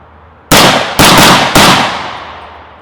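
Three loud unsuppressed supersonic rifle shots crack out about half a second apart, each sharp report trailing off in a short decaying echo.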